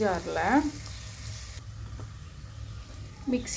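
Potatoes sizzle and fry steadily in a hot pan, a constant crackling hiss, with brief voices at the start and end.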